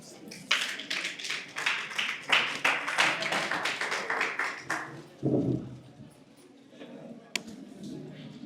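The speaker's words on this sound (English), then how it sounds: "Please give a round of applause for her." Applause for a speaker at an International Women's Day celebration, a dense burst of clapping for about five seconds that then fades, followed by quieter room sounds and voices.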